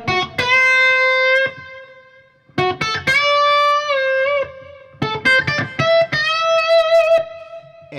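Electric guitar played through delay and reverb effects from a Universal Audio app, three sustained chord phrases with echoing, ringing tails, loud and close.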